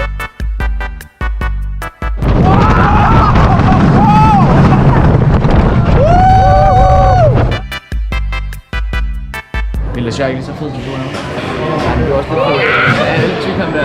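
A wooden roller coaster named Wildfire, among the world's tallest, roars and rattles with heavy wind buffeting, broken by sharp thumps early on, while riders shout and talk loudly throughout.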